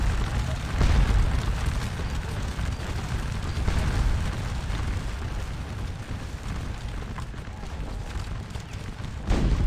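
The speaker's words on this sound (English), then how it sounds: "We've got plenty of artillery laying into it right now." Video game artillery bombarding a fort in a Napoleonic battle at Quatre Bras, a continuous low rumble of distant booms and battle noise, with a voice talking over it.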